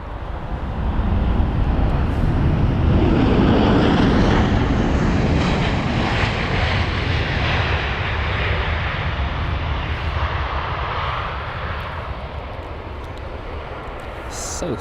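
A 15-year-old KLM Boeing 737 lands at London Heathrow, its engine roar loud and near, swelling early and then slowly fading as it passes, with a voice talking over it.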